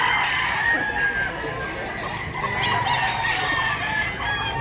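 Roosters and other fowl at a gamecock farm in Mantalongon, Barili, Cebu, crowing and clucking steadily close by, with a continuous layer of calls over background noise and a bit of talk mixed in.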